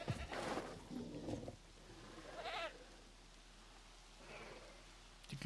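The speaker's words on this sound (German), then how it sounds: "Oh, draußen sind auch so viele Ziegen." Goats bleat faintly at a distance in the Jurassic World Evolution game, with a few separate wavering calls heard over a soft, steady ambient backdrop.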